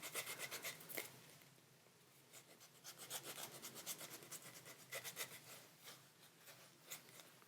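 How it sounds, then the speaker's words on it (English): A gum eraser rubs back and forth over stamps to prime them, a soft, quick series of close scratchy strokes in an even rhythm, quiet and alone. "Just going to grab my gum eraser and make sure that I prime these stamps."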